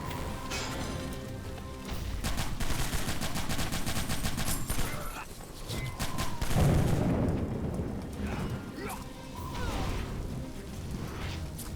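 Rapid pistol gunfire and crashing combat blasts in the video game Captain Blood, dense, loud bursts of shots and impacts continuing throughout with brief dips.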